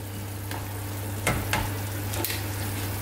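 Creamy chicken pasta sauce with penne being stirred in a pan over medium heat, a steady low sizzle broken by a few soft spoon scrapes, close and alone with no talking.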